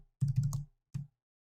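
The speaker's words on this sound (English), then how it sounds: "you first type in the device name" Short bursts of computer keyboard typing as a device name is entered during setup of an SMA Data Manager M, a quick cluster of keystrokes followed by one isolated tap, close and fairly quiet.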